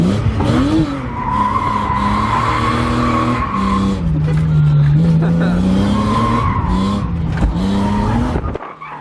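A BMW E36 drift car skids through a corner, with a loud sustained tire squeal that wavers in pitch over the engine for several seconds. People talk over it.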